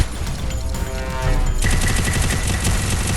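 Rapid, dense gunfire from a zombie-mode shooting video game, loud and sustained bursts that intensify partway through, with no talk over it.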